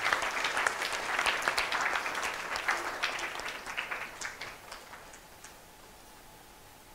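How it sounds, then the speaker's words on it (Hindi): Church congregation applauding in thanks, a dense burst of clapping that gradually thins out and fades over several seconds. "तालियां बजा के प्रभु का धन्यवाद"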